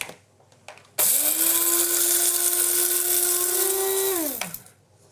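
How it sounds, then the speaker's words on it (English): An electric spice grinder whirs loudly and steadily for about three and a half seconds, grinding coriander and cumin seeds, starting abruptly and winding down at the end, with no talking. "So in goes some coriander seed and some cumin seed. And I want to grind those up."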